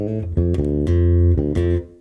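A guitar plays the opening bebop phrase of an F blues, a short run of clear sustained notes starting on a pickup, clean and close.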